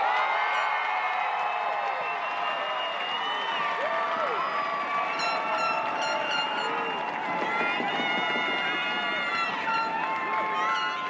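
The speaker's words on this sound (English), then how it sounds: "Please give all of these graduates a round of applause." A crowd at the Hampton County High School 2024 graduation cheers and claps for the graduates, with whoops and shouting voices rising over a continuous bed of applause.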